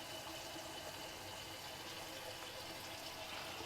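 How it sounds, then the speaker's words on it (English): Hot water runs from the tap in an Adria Supersonic 780DC motorhome, a steady, even gushing hiss that holds unchanged throughout, fairly quiet and close. "That is your hot water coming through."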